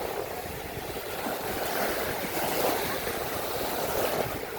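Sea waves wash steadily onto the Black Sea beach at Ureki, a broad continuous surf roar mixed with wind buffeting the microphone and no speech.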